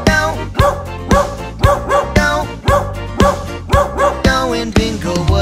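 A children's farm song about a farmer's dog, with a voice or sound effect giving rhythmic "woof woof" barks in a steady repeating pattern over bright music, loud and close.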